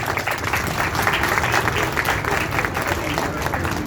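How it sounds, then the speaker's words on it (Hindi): Audience clapping at an Arya Veer Dal gathering in Gandhidham, during children's yoga pose demonstrations. Dense, steady applause fills the whole clip at fairly loud level, with voices mixed in underneath. "अब तालियां बजाते रहे।"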